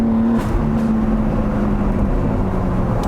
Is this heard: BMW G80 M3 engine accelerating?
yes